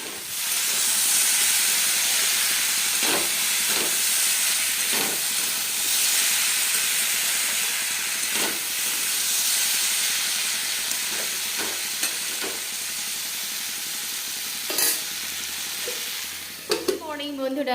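Oil with green chillies heats in a pan over a gas flame, giving a steady close hiss and sizzle throughout, with a few soft knocks and a short clatter at the end.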